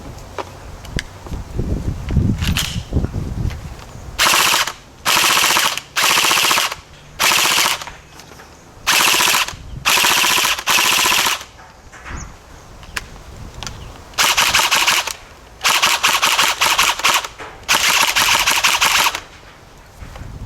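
A CP AK74M gel blaster with blowback fires about ten sharp, rattling bursts of rapid shots, each a second or so long, separated by short quiet gaps.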